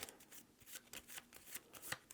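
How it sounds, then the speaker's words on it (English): A rush card is shuffled into a deck of playing cards during a solo board game campaign, producing a quick run of soft, close riffling flicks that lasts about two seconds. "I have to shuffle in that rush card"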